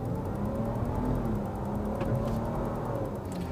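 A 2021 Lincoln Navigator accelerates with traction control switched off on a test track, its engine a steady, close droning hum with a faint rising tone, and no talking over it.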